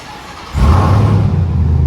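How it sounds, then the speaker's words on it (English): A supercharged Ram TRX pickup truck engine fires up after a quiet moment and settles into a loud, deep, rumbling idle with a slight rev, close by, with no talk. "Let's start the TRX. Let's rip this thing."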